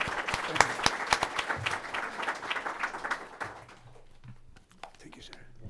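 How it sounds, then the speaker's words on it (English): An audience gives an ambassador a big round of applause after a talk on the ocean and climate, dense clapping that stays steady for about three seconds, then dies away into a quiet room with faint murmuring. "let's give Ambassador Aas a big round of applause"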